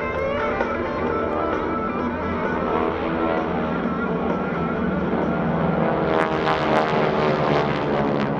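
GEICO Skytypers propeller airplanes fly overhead at a Rhode Island Air National Guard open house airshow, a loud continuous engine drone that swells slightly near the end.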